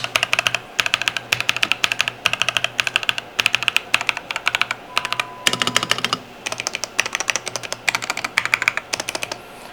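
Fast, steady typing on a mechanical keyboard fitted with linear switches and Cherry-profile keycaps, a close, loud run of crisp key clacks in quick bursts with short pauses.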